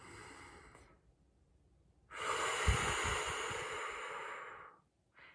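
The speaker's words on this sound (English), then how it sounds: "So if I'm breathing in," A deep breath drawn in and then a long, steady exhale, demonstrated as a calming technique; a short inhale opens, then a loud, sustained breath out lasting over two seconds, close to the mic, with no talk.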